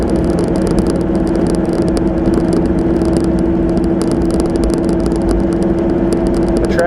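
A car engine drones steadily while cruising in third gear at about 25 mph through a school zone, a smooth, continuous, moderately loud hum from start to finish with no talking.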